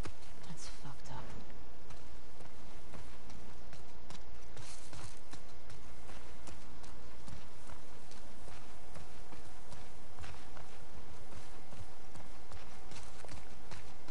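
Horse hooves clip-clop in The Last of Us Part II, a dense, loud run of repeated hoof strikes over busy game ambience, continuous and close throughout.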